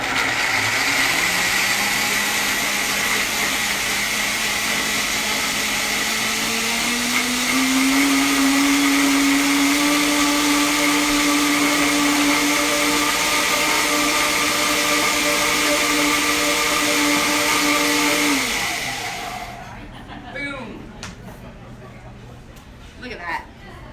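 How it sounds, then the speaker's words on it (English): Countertop blender whirring through a cashew mayonnaise, loud and continuous, its pitch rising as the mix smooths, then winding down to a stop. "onto the blender. I'm gonna get loud again."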